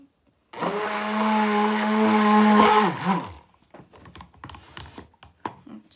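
A stick blender whirs steadily for about two seconds as it mixes cactus sea salt soap batter, then winds down, followed by light clinks and scraping from the bowl and utensils.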